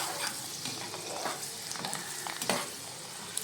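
Sambar powder and chilli powder being stirred through hot oil in a frying pan for bele sambar, a close, steady scrape-and-sizzle with scattered spoon clicks and one sharper knock near the end, no voices.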